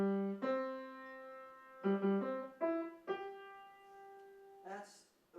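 Rheingold leitmotif from Wagner's Ring Cycle played as short, clear, sustained chords in a few separate phrases, alone without talk.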